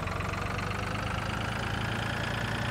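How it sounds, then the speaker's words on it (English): A tractor engine idles in the video game Farming Simulator 2013, a steady, loud, close mechanical drone with a fast low throb, unchanging throughout and without any talk. "this tractor can actually drive properly"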